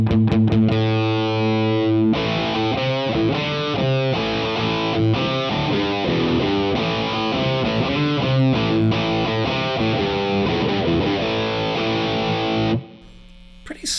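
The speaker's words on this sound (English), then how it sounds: "Pretty solid sounding distortion, right?" A heavily distorted electric guitar through a Master Effects Martyr distortion pedal plays a steady, loud riff of sustained chords and notes for several seconds, then stops abruptly near the end.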